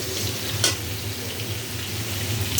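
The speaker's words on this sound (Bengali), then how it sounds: "এই কিনে মাছ ভাজা দিয়ে দিচ্ছি" Fish fries in hot oil in a pan, a steady close sizzle with one brief sharp clink partway through and no talking.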